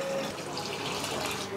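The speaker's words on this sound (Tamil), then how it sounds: "தேவையான அளவுக்கு தண்ணி ஊற்றிக்கலாம்." Water is poured in as a home dinner dish is cooked, a steady, close splashing gush that runs continuously and evenly.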